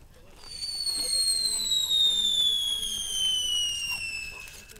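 Fireworks going off outdoors: a long descending whistle glides down steadily over several seconds, loud and sustained, with faint crackle and people talking quietly beneath it.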